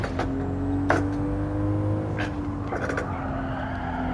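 A modified car in Gran Turismo 7 drifts with oversteer mid-corner, its engine droning steadily under a sustained tire squeal, with a few sharp scuffing bursts from the tires as it slides.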